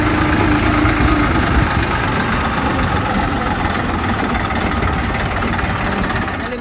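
A tractor just arrived home idles with a steady, loud, low rumbling engine throb that runs throughout and eases slightly near the end, with no talking.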